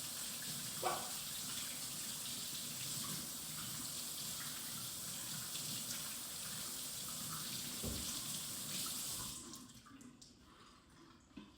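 Water runs steadily from a tap as something is washed off, a broad continuous rush with a couple of brief clunks, cut off near the end to near silence.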